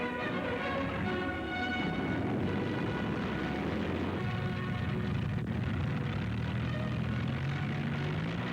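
A 1940 wartime aircraft takes off with a steady propeller drone. The engine stays fairly faint and constant the whole time, with no voices.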